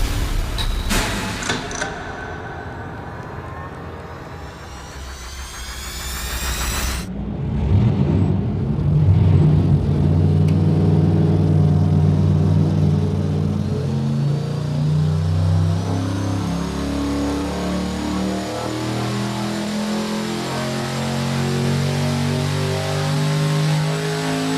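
A turbocharged V8 on a dyno revs hard with a rising whine, then drops into a loud, deep, lumpy roar that settles and holds heavy and close, with a faint turbo whistle over it.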